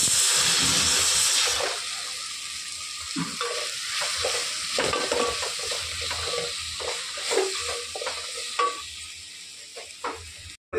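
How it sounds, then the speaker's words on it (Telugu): Black sesame seeds, chana dal, coconut, garlic and onion roast together in a pan for a masala, sizzling and hissing steadily while a spoon stirs and scrapes through the mix up close. "నువ్వులు, శనగపప్పులు, కొబ్బరి, తెల్లగడ్డ, ఆనియన్స్ అన్నీ ఆ మసాలా వేసేసి బాగా వేయించుకున్నాక"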